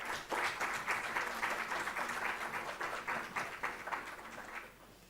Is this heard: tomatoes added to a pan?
no